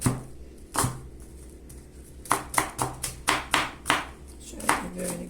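A knife finely chops onion on a board for kısır, giving a sparse series of crisp close knocks that then quickens into a rapid, rhythmic run of cuts before slowing again.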